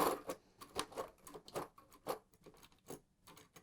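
Fast, uneven clatter of keys struck on an AG Olympia 200i electronic typewriter from the 1980s, each keystroke a sharp close click in a steady typing run with no voices.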